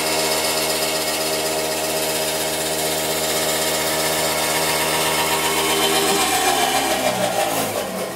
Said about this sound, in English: That's a damn washing machine, man. It was doing a spin cycle.